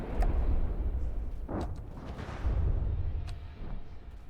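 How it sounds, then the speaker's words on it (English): Missiles and ship weapons explode in naval combat in the game From the Depths, heard as a continuous low rumble with a few dull booms swelling and fading, with no talking over them. "I can see explosions."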